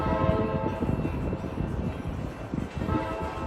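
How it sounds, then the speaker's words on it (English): An Amtrak Capital Corridor train departs Oakland's Jack London Square station toward Sacramento. It makes a continuous low rumble of wheels and rail cars rolling close by, with a faint horn tone running underneath. "Alright folks, that train is off to Sacramento."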